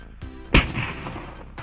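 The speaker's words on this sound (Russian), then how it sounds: "Давайте вот такую петарду Супер Бластер." A Super Blaster firecracker goes off on ice with one sharp, loud bang, followed by a brief crackling echo over a steady outdoor background.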